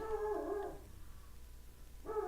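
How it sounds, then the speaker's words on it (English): A dog lets out a couple of high, whining yelps, separated by a quiet pause; the sound is faint and somewhat distant. "What's she barking at?"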